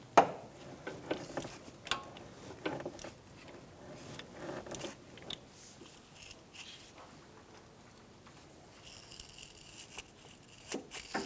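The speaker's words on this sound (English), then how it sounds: "After you've tightened this bolt, we're going to torque it to 89 inch-pounds" A torque wrench tightens the bolt of an input speed sensor on a 2012–2018 Ford Focus 2.0L four-cylinder. Quiet, close ratcheting clicks and metallic taps come in irregular bursts with short pauses between them.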